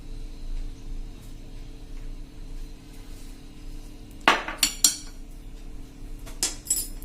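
Spices being mixed into coriander bhajiya batter in a bowl, with a few sharp clinks of a spoon or utensil against the dish midway and near the end, over a quiet background without talk.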